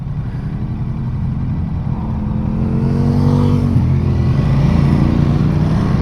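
A 2019 Ducati Multistrada 950S motorcycle engine pulls steadily while riding, pitch climbing smoothly as it accelerates out of a roundabout, loud and continuous with wind rush.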